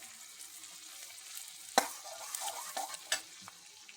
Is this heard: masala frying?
yes